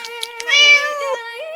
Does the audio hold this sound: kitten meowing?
yes